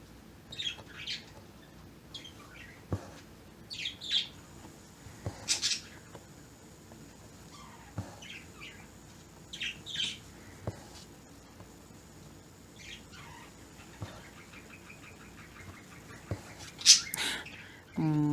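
Birds squawk and chirp in scattered short bursts. The calls are faint and somewhat distant over a low, steady background hiss, with occasional louder squawks and no talking.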